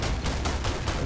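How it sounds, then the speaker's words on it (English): Gunfire in the video game Starfield, a dense, continuous burst of rapid shots filling about a second with no pauses, loud and steady with no talk. "I'm just gonna keep shooting."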